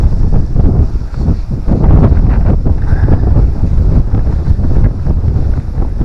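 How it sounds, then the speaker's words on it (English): Strong wind gusts on a canal towpath near Foxton Locks, buffeting the microphone with a loud, rumbling roar that rises and dips throughout. "Oh yes, the wind's come up again."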